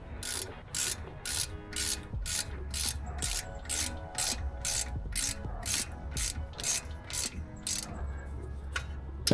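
Small ratchet wrench clicking in quick bursts of repeated strokes while working on a BMW G87 M2, close and crisp, with brief pauses between passes and no talking.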